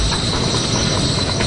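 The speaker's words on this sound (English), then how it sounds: "the whole train, is floating in midair 10 millimeters above the track" Maglev train gliding along its test track, floating on magnets just above the guideway, producing a loud continuous broadband rush and rumble with no pauses.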